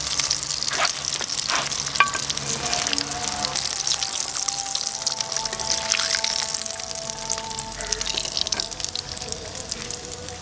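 Potato cheese balls frying in oil until light brown, a dense, continuous bubbling sizzle close up with faint stirring clinks.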